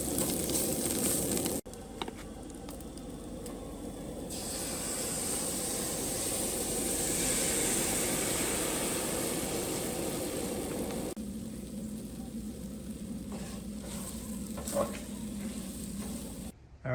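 Bacon and eggs frying in a pan at a campsite, a steady close crackling sizzle that swells and eases, with occasional small clinks and no talk.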